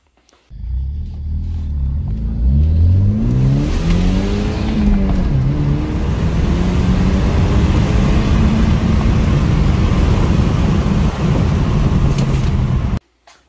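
A BMW F30 with a Stage 1 tune accelerates hard, its engine note climbing steadily through the rev range in a loud, close, continuous rumble that holds until an abrupt cut at the end.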